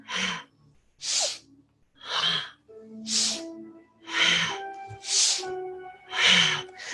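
A person breathes rhythmically in and out through the nostrils during a gentle beginner yoga session, about seven audible breaths in a steady pattern, close and fairly loud, with no talking.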